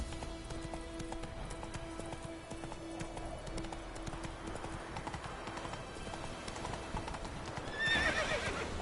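The horse in The Witcher 3 gallops steadily with rhythmic clip-clop hoofbeats and ends on a whinny near the close, up close and fairly loud, over faint game ambience.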